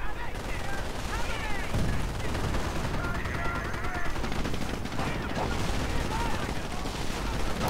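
Grenadier squads open fire in a World War II strategy game battle against a Sherman tank, a dense, continuous clatter of rifle and machine-gun shots with overlapping bursts and distant blasts, steady and loud throughout.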